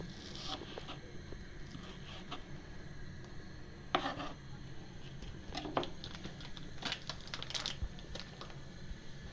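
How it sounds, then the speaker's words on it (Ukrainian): A knife slices an onion thinly on a cutting board, giving soft irregular taps and scraping cuts at a quiet, steady close range, with no talking. "Цибурку ріжемо тоненько."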